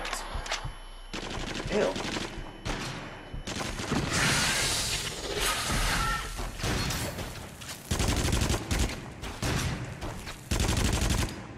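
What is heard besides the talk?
gunfire from a video game (Until Dawn: Rush of Blood)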